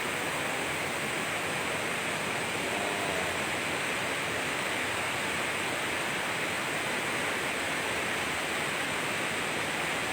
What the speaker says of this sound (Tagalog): Marami pang mga falls na ganito dito sa Mindoro.